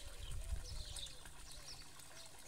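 Water trickling and splashing softly in an outdoor stone fountain, a continuous gentle flow with light burbling, with some faint low rumble and distant bird chirps in the background.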